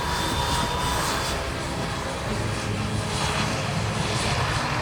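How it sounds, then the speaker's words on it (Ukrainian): A steady, loud T-80 tank gas turbine engine roar, a converted helicopter engine, with a high whine on top, continuous and unbroken, close and droning throughout. "Вертольотний двигун, який був переобладнаний під танк Т-80."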